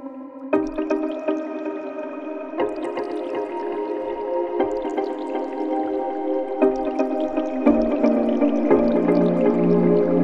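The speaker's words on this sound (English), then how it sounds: "Pluck ASMR Liquid Pizzicato" Liquid pizzicato pluck synth patch from the UniFlow ASMR library, with watery drip-like notes ringing in steady overlapping rhythmic phrases, close and clear, with no voices.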